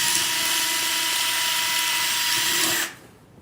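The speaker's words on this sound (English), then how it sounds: "Adjust the depth limited drill and carefully drill to the appropriate length." A loud, steady high-pitched whine of a depth-limited surgical power drill running continuously while drilling bone for a humeral intramedullary nail, then cutting off abruptly near the end.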